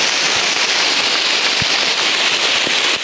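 Heavy rain at Batu Dinding on a Mount Panti hike falls as a dense, continuous hiss of drops on the surroundings, steady and loud throughout, with a few thuds of larger drops.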